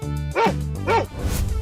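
A dog in a 3D animal video game gives two quick, loud barks followed by a softer third yip, close and clear over a steady background tone.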